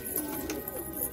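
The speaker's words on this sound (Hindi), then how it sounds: "ये देखें आप सब अच्छी नस्ल के और पुरानी नस्ल के कबूतर हैं" Old-breed Bhure Bajre pigeons kept in a loft in Tonk, Rajasthan, coo softly nearby in a short, low, throaty burst.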